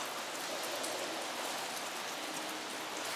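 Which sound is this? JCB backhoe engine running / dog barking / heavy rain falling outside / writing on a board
heavy rain falling outside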